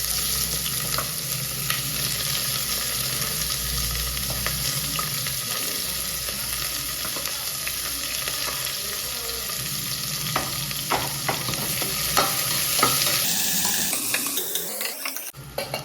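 Three onions frying in a pan with cardamom and bay leaf for vegetable pulao, a steady sizzle under repeated scraping stirs, with running water from a tap near the end.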